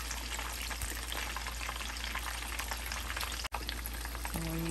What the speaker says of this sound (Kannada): ಇನ್ನೊಂದು ಸೈಡ್ ಇನ್ನೊಂದು 2-3 ನಿಮಿಷ ಫ್ರೈ ಆಗಿ